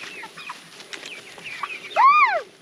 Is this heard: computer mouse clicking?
no